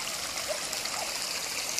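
Tap water streams steadily down a road, a continuous close trickling rush with no break and no other sound.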